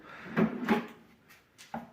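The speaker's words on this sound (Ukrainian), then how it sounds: "отак от дверки відчиняються." Wooden cabinet doors finished in white oil-wax swing open, giving a few soft, close knocks and muted clicks spread over a quiet background.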